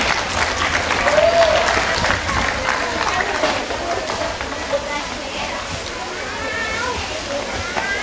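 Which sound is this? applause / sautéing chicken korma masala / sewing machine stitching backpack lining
applause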